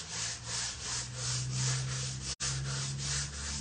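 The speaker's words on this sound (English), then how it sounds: "I've just got a really fine sanding block" A fine sanding block rubs steadily over wood in smooth back-and-forth strokes, close up, with one brief pause midway.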